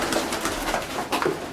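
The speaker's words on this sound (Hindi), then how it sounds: "जब कबूतरों के पिंजरे में हम एंटर हुए तो शुरू में तो कबूतर थोड़ा सा परेशान हो गया" Caged pigeons unsettled by people entering a coal godown, cooing and rustling close by in a short, busy burst with no talk.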